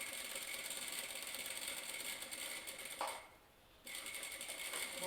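A sewing machine stitches bias binding onto a corset in a steady mechanical whir that stops briefly for under a second partway through and then resumes, close and even.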